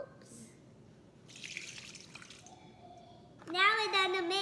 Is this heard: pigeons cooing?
no